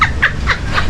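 A person imitates a chicken with four quick clucking calls in a brief, loud, rhythmic burst.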